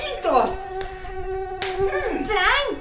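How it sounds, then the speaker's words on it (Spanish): Mosquitoes whine in a high, wavering buzz around a listener in a Spanish-language audio story, the drone rising and falling through pained exclamations and a quick slap. "¿De dónde salen estos mosquitos?"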